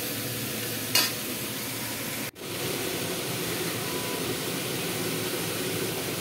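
Spice paste frying in a pan with cauliflower greens gives a steady, even sizzle, with a short clatter near the start and a sharp knock partway through.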